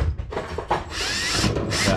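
A power drill with a 1/16 inch bit, working on an MCI bus conversion, gives short whirring bursts close by with brief pauses between them.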